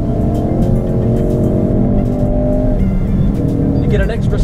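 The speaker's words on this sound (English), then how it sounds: "We're in third gear and we're going to accelerate," A Ford Focus RS hot hatch accelerates hard in third gear, its engine droning loud and steady with rising harmonics heard from inside the cabin, a brief dip near the end before it pulls again; a voice talks over it.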